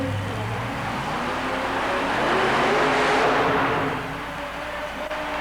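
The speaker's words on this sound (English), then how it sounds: "the starting line launch gave away the fact that the car was not hooking up" The Ground Zero S10 super modified mud racer makes a run at an indoor event at the Centrum in Worcester, MA, in 1991, its tires spinning as it struggles for grip. A loud engine roar swells to a peak and then eases off.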